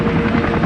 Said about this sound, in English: Attention attack helicopters!